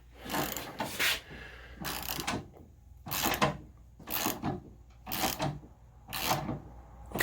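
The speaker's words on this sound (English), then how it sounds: "So we're gonna actually lift the bike up now." A motorcycle, an Aero 1100, is raised on a lift with seven evenly spaced bursts of mechanical ratcheting and clunking, each roughly half a second long, close up with quiet gaps between them.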